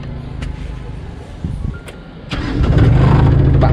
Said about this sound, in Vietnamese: Bây giờ mình sẽ nổ máy.